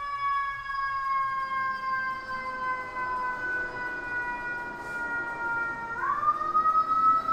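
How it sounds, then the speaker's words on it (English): An ambulance siren wails steadily at a distance, a sustained tone that shifts pitch slightly as it passes by, heard faintly over a low background hum, with no voices. "ambulance going by."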